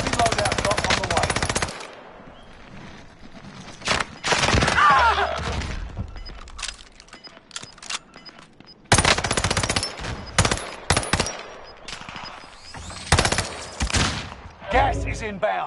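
Rapid automatic gunfire and scattered shots in Call of Duty, loud bursts in clusters separated by quieter gaps, with game voice callouts and effects between volleys.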